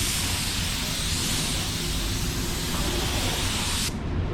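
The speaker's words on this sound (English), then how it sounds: "point the gun up at them when we spray clear" A spray gun applies clear coat to Jeep parts with a loud, steady close hiss that continues for several seconds and then cuts off abruptly.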